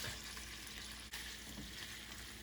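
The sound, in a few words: pork frying in oil in a pan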